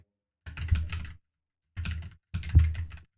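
Three short bursts of rapid keystrokes on a computer keyboard type a journal entry, close and clear with quiet gaps between them.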